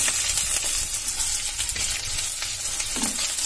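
Finely chopped onion goes into hot oil that already holds curry leaves, for a watermelon-rind vegetable dish; the sizzle and frying hiss is loud, dense and steady throughout.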